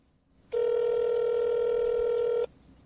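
A single steady electronic telephone call-transfer tone lasting about two seconds, clean and even, over faint background hiss.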